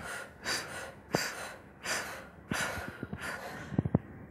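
Deep, audible inhalations during a breathing exercise for speech training: several close breath noises repeat in a steady rhythm of roughly one every second, with quieter gaps between them.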